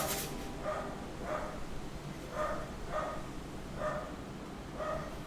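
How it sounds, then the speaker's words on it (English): A dog barks repeatedly somewhere nearby in a kitchen setting, about six evenly spaced moderate barks over a low steady background. "I'm gonna wait for that dog to shut up over there"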